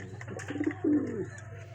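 A pigeon coos up close, a short soft burst of low throaty rolling notes, with a quiet background.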